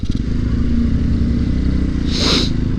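A Grom clone motorcycle braking to a stop: a steady, close engine rumble winding down over a few seconds, with a brief hissing squeal near the end as the brakes bite.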